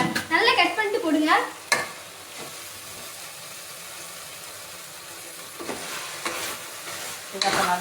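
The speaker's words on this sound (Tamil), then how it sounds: "நல்லா கிண்டணும்." A spoon stirs food around a hot pan with chopped coriander and mint leaves, giving loud scraping strokes at the start and end over a steady low sizzle, with no talking.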